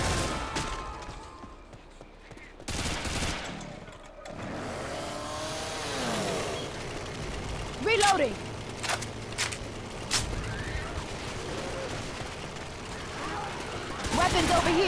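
Guns fire in Left 4 Dead 2 as a few sharp, separate shots crack out over running game noise and engine-like rumble, with people talking throughout.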